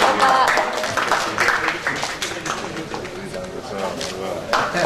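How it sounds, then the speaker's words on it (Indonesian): Audience applause at a school open house event, a dense wash of clapping filling the room continuously for several seconds, with voices mixed in underneath. "Beri tepuk tangan yang paling meriah sekali lagi."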